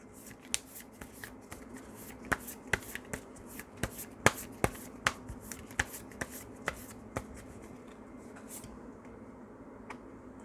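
Tarot cards being shuffled and drawn, a string of crisp, close riffles and slaps in uneven rhythm over a faint background, loudest in the middle and thinning toward the end.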